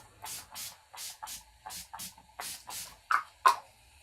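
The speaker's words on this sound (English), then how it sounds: "Then I'll take the Decay All Night Setting Spray." Urban Decay All Nighter setting spray misted onto a face, about ten short, crisp pump bursts in an irregular rhythm, close and fairly quiet, with the last two sharper and louder.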